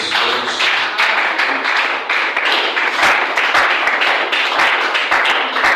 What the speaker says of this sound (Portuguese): Aplaudimos para a glória de Deus.